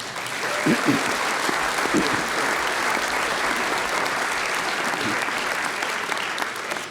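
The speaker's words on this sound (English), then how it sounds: "he deserves a round of applause already" Sustained audience applause at a talk on Ukraine's future strategy, a dense, steady wash of many hands clapping at even loudness throughout, with a few brief voices audible early on.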